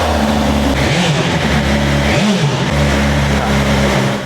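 A BMW S1000XR motorcycle engine running on its stand close to the microphone, a loud steady idle with a buzzing, sewing-machine-like hum and a couple of short revs that rise and fall.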